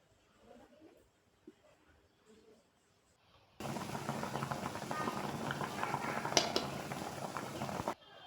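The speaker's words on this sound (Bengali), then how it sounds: "প্রথমে ফুটন্ত গরম জলে সামান্য হলুদ দিয়ে মাছের ডিমগুলো 2 থেকে 3 মিনিট সেদ্ধ করে নিলাম।" Fish roe boiling in a pot of hot water with a pinch of turmeric, a steady bubbling rush starting suddenly after a few quiet seconds and running evenly to the end.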